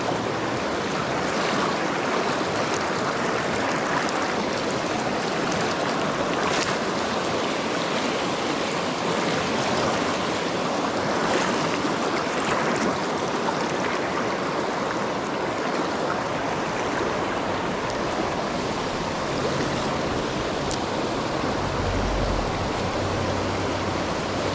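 Water pours steadily at a dam on a fishing outing, a loud, continuous rushing roar like a stream or waterfall that fills the whole stretch, with no talking.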